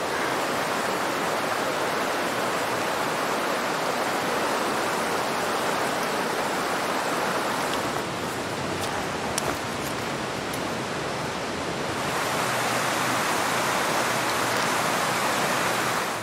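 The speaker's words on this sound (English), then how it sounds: "And that is the Little River." The Little River flows steadily along the Little River Trail in the Great Smoky Mountains, a continuous broadband rush of water running without pause, close and full, with no voices over it.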